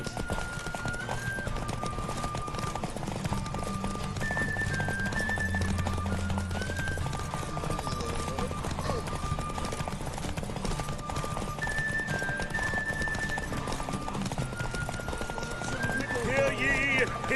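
Geralt's horse Roach gallops in The Witcher 3 during a horse race, rapid clip-clop hoofbeats pounding steadily throughout under game music and crowd noise, with a whinny near the end.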